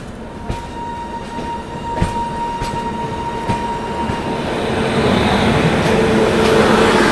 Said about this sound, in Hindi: यहाँ पर किसी ट्रेन से अपनी क्रॉसिंग भी हो रही है